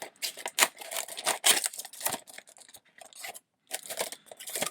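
Close-up crinkling and snipping of plastic packaging being cut, in irregular bursts with a brief pause before more rustling.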